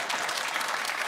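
A studio audience at a TV panel show claps in a dense, steady burst that lasts only a moment, with no voices over it.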